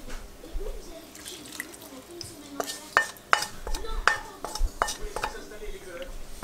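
A salad tossed in a bowl with warm vinaigrette poured over it gives off quiet, scattered clinks and scrapes of utensils against the dish. The taps are irregular and sharper near the middle, with faint background murmur.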